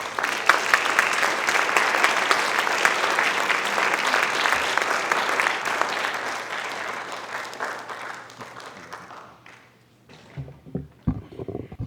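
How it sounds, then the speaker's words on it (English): An audience applauds as a senior research scientist is introduced, a full, steady wave of clapping that holds for several seconds before tapering off and leaving a few scattered claps and stage noises. "Please give a warm round of applause to Dr."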